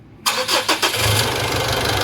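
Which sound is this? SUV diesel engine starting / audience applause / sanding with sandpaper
SUV diesel engine starting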